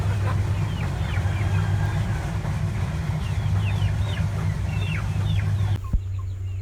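Native chickens cluck and call continuously nearby, a busy flock chattering over a steady low engine-like hum, ending with a brief thump.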